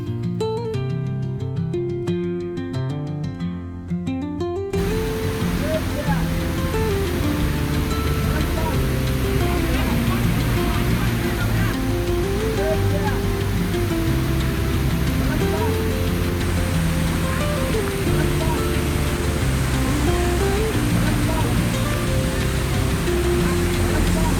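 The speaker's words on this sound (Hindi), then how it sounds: "जब वो झरने की गिरने की आवाज़ आने लगी" After a brief stretch of music, a loud steady rush of Devkund Waterfall near Pune takes over, a constant roar with music continuing underneath.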